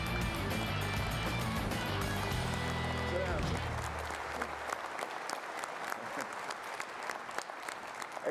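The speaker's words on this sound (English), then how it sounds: "I didn't even speak yet, and they're starting to clap" Audience applause filling a hall at the FDIC 2025 fire service conference as the keynote speaker is introduced, a steady dense clapping that continues throughout, with a low rumble and voices early on.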